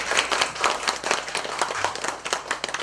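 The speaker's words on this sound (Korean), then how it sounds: "다시 한번 큰 박수를 한번 맞이해주세요." An audience at a Buddhist memorial tea ceremony at Seongmoam temple in Gimje claps in an irregular burst of applause, moderately near and with no talking.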